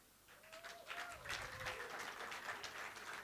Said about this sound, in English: This your clap is not loud enough,